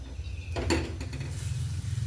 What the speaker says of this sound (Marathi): आपल्याला हे बारीक गॅसवर सगळं परतून घ्यायचं आहे पाच मिनटं आपण ह्याला परतून घेऊया